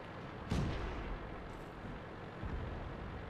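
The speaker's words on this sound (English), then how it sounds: "where the Marder 2 is firing behind us" Marder 2 tank destroyer gun in World of Tanks, firing with one loud sharp blast followed by a rumbling tail, then a softer distant boom later amid steady engine rumble.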